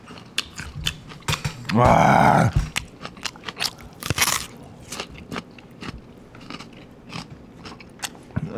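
Close crunchy bites and chewing on tulip-style chicken feet, with loud crackling bursts between quieter chewing. A man briefly exclaims.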